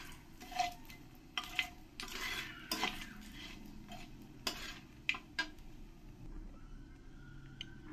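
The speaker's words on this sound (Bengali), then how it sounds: "শুকনো লঙ্কা, তেজপাতা দিয়ে দেব, দিয়ে ভালো করে একটু ফ্রাই করে নেব" Dried red chillies and bay leaves fry in a pan, with scattered clinks of a metal spoon stirring against the pan over a low, steady sizzle and no talk.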